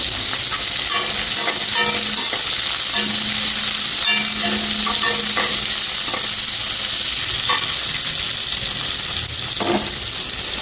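Loud, dense sizzling of garlic, green chillies, onion and curry leaves sautéing in a pan for banana flower poriyal, fills the whole stretch, with scattered scrapes and clicks of stirring up close and no talking.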